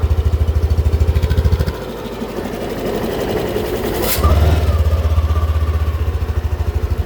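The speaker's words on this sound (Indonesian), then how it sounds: "Suara knalpotnya ngebas." A 2023 Yamaha Aerox scooter engine idles with a deep, bassy exhaust, a rapid even low throb that eases briefly and then returns strong and close, with no voices.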